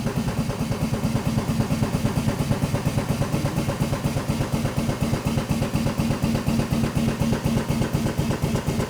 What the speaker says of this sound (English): You can hear the pneumatic hydraulic pump running, which is powering our lift function.